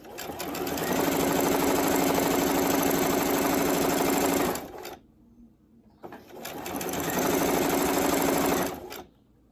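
A sewing machine runs fast through a ribbon tutu in two long, loud bursts of rapid mechanical stitching, separated by a brief pause, with no voice.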